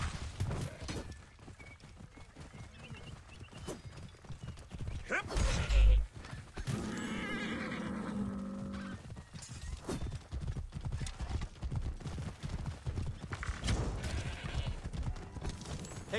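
Horse hooves clip-clopping in the Assassin's Creed Origins game, a steady rhythmic gait with an occasional whinny and creaking tack, moderately loud amid ambient game sounds and little talk.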